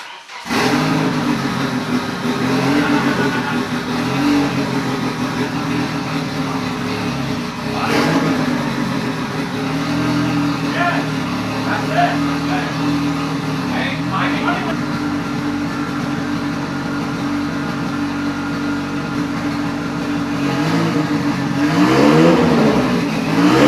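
A turbocharged KA engine in a Nissan 240SX drift car cranks and fires, then runs with a loud, steady idle and occasional revs, close by, with people talking over it.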